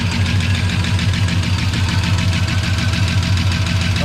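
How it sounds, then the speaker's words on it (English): A 1984 Chevy truck engine, revived after sitting dead for two years, idles steadily and close by, with a loud, continuous low rumble and a faint rhythmic knock running through it. No one speaks. "just let it sit there and idle."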